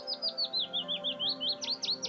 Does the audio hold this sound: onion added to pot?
no